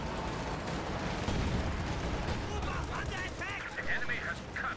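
Bazooka and MG34 machine gun fire in a WWII real-time strategy game, a dense, continuous battle wash of shots and rumbling blasts with faint voices calling out over the din in the latter half.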